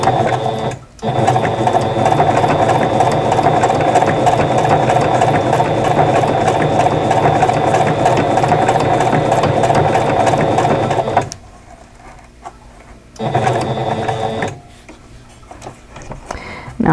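Sewing machine stitching a quilt block, a loud steady mechanical whir running continuously for about ten seconds, pausing, then resuming in short bursts with near silence between them.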